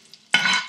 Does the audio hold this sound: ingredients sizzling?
yes